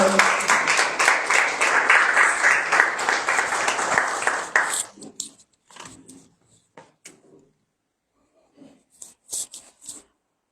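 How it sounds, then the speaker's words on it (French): A church congregation applauds to welcome Pastor Catherine: dense, loud clapping from many hands for about five seconds, then it thins quickly to a few scattered claps and faint rustling, with brief pauses between. "nous acclamons le pasteur Catherine qui nous partage la parole"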